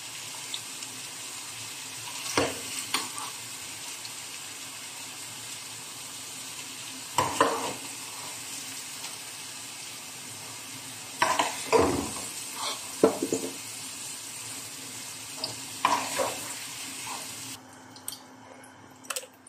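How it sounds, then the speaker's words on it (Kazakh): Carrots frying in oil in a kitchen, a steady close sizzle broken by several louder bursts of stirring and clatter from utensils. "Морковымызды бір 5-10 минуттай осылай қып-қызыл қуырып алып"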